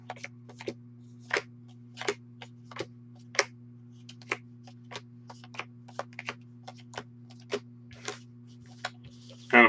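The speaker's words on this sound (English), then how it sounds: "It's kind of a messy but non-violent shuffle." Unsleeved Magic: The Gathering cards from an Ixalan Planeswalker deck being shuffled by hand, a messy run of short, sharp card snaps and riffles at an uneven rhythm, close up over a steady low electrical hum, ending in a louder burst.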